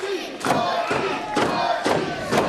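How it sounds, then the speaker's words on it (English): A packed wrestling crowd at an American Legion hall in Sparta roars for Butchie Davis, loud rhythmic chanting that swells in repeated bursts roughly every half second, each surge punctuated by shouts. "The fans getting behind Butchie Davis here"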